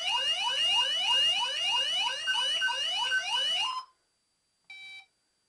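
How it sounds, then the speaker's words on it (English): A loud electronic panic alarm siren from an Accenta G3 Mini alarm system wails in fast, repeated rising sweeps for several seconds, stops abruptly, then gives one short beep after a pause. "I'm going to activate the panic alarm."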